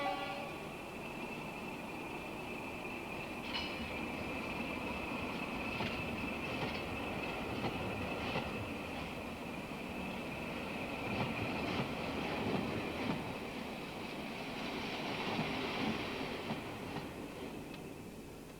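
A train rumbles steadily along the rails with a continuous hum and faint rhythmic clacks, heard from inside at moderate distance, with no talking.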